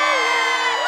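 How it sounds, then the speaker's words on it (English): Loud cartoon crowd cheering and whooping, a dense bright wall of excited voices sustained for under a second without a break. "The Bartleby will never come back if the crowd is this loud."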